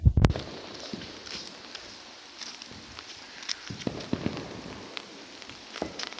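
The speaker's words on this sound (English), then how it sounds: "those are the fireworks. They are neat." Fireworks going off at a distance, with a loud sharp bang at the start followed by scattered fainter pops and crackles over a steady hiss of outdoor background.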